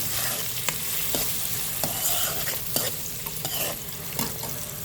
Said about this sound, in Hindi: प्याज 1 कटोरी डाल रही हूँ।